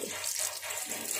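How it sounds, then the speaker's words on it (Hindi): Water poured from a glass into a pot of dal for sambar, a steady close splashing fill that runs continuously for just over a second. "और ये हम इसमें दो ग्लास पानी, डेढ़ कप दाल है तो हम दो ग्लास पानी ले लेंगे"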